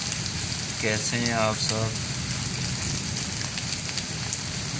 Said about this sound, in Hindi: बहुत ही प्यारा मौसम है, बारिश लगी हुई है